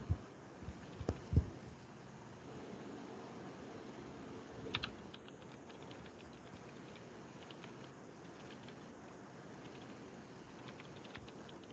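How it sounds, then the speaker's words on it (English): Quiet, steady patter of someone typing on a computer keyboard during an online lecture, with a few sharper clicks near the start and soft continuous key taps beneath a faint hiss. "I can hear Harshavardhan typing for such a long time"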